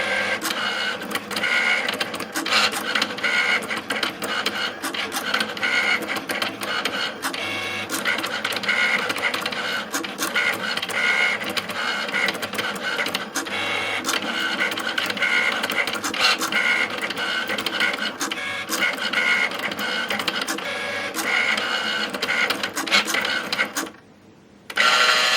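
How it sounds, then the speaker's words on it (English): A Cricut Maker cuts heat transfer vinyl on its mat, a close, steady whirring and clicking of the moving carriage that runs nearly continuously, with a brief pause near the end. "my machine has finished cutting out my vinyl"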